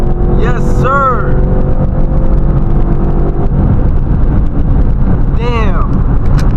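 A Ford Mustang with an MT82 manual gearbox accelerates hard through its gears while racing, its loud engine drone rising in brief revving sweeps amid wind rush, with people talking over it.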